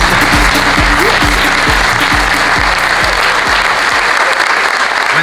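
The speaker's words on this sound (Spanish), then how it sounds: "Fuerte el aplauso para Carlos Melconian." Loud, steady applause from a conference audience greeting economist Carlos Melconian at a regional business forum, a continuous wash of many hands clapping throughout with a few low thumps early on.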